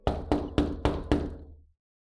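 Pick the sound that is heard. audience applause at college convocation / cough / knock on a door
knock on a door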